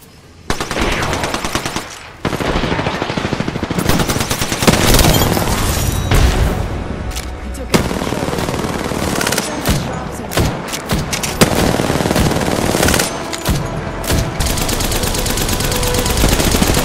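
Sustained heavy gunfire from the Apex Legends battle royale game, loud automatic bursts and single shots running almost continuously with brief gaps and booming impacts.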